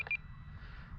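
A short electronic alarm on a flying E-Flite RV-7 sport RC plane gives two quick high beeps right at the start, faint against a low background rumble, then mostly quiet.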